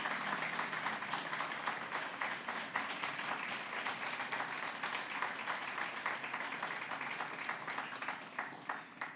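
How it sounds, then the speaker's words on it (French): A crowd at an earthquake memorial ceremony applauds the musicians, sustained many-handed clapping with a brisk, even texture that holds steady and thins slightly toward the end. "Les musiciens que je vous demande d'applaudir."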